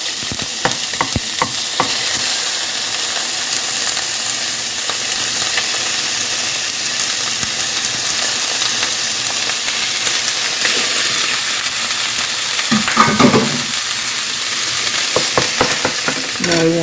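A pound of past-its-prime, microwaved hamburger meat fries in oil, with a loud continuous sizzle and occasional scraping stirs of a utensil in the pan.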